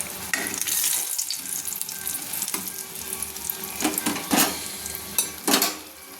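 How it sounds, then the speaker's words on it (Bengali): Brinjal slices fry in oil in a kadai with a steady close sizzle, punctuated by a few sharp spoon scrapes and clinks as pieces are lifted; no one speaks. "দেখুন অপর পিঠগুলো ভাজা হয়ে গেছে।"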